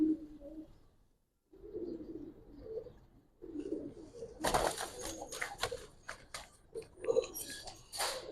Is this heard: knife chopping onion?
no